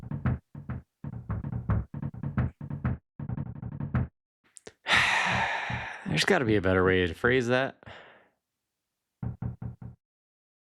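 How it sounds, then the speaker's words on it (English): Knocking at a door in the video game Earthbound: quick, sharp knocks in rapid clusters for several seconds, a break filled by game sounds and voices, then a few more knocks at the end. "who could be knocking at the door at this time of night?"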